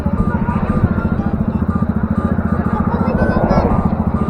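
A motorcycle idling close by at a fuel stop, a steady loud low-pitched engine pulse with a rapid rhythmic thrum throughout and a faint clatter over it.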